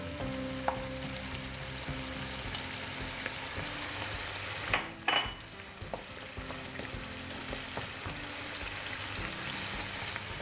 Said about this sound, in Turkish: Biraz kavrulsun domates salçası.